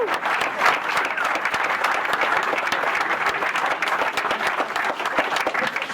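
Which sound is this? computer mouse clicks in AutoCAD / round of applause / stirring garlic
round of applause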